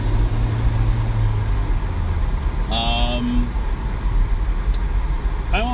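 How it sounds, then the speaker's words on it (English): A noisy truck rumbles close alongside a moving car, a heavy low engine drone that fades partway through, with road noise and brief tonal whines over the steady traffic din. "This truck bite next to me is really noisy."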